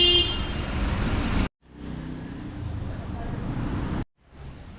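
Saturday street traffic inside Intramuros, Manila: passing cars and trucks rumble nearby, and a loud car horn toots at the start before the noise cuts out twice.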